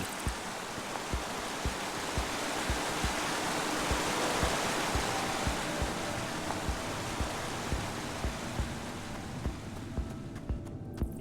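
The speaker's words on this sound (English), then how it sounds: "I first met Reuben near a waterfall like this." A steady, dense rush of falling water from a waterfall in Minecraft: Story Mode fills the clip, loud and continuous, with faint rhythmic ticks beneath it.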